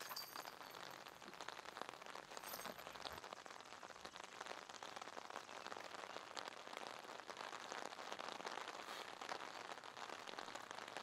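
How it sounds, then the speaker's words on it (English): Heavy rain pours steadily over an outdoor golf course during a final-round tournament, a dense continuous hiss of downpour across the whole stretch with no voices. "It is pouring down rain right now"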